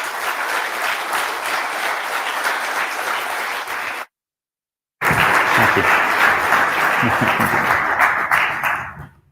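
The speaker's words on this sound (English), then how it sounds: "let's get a round of applause for those who are making the Ubuntu ecosystem exceptional." Large crowd at the Ubuntu Summit in Prague applauding together, sustained loud clapping that cuts out briefly and then resumes before tapering off, with a short spoken thanks near the end.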